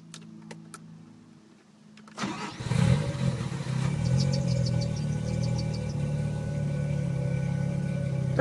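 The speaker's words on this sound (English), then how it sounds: "Let me start the car." A Mazda RX-7 Veilside rotary engine cranks and catches after a few faint clicks, then settles into a loud, steady, throaty idle with a slight rising rev, close up and without talk.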